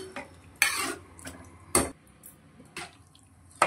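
Milk and rice for white vegetable pulao being stirred in a pot, a spoon scraping and clinking against the metal in several distinct bursts with quiet gaps between, close and clear with no talk.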